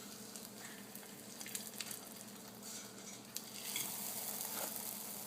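Hojaldre dough fries in a pan with a steady, dense sizzle that swells louder partway through, joined by a few faint stirring or utensil taps.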